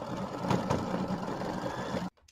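A home sewing machine runs steadily, sewing decorative stitches along both sides of a fabric gnome's beard on a quilt block, its busy mechanical whir holding near and loud for two seconds before cutting off abruptly.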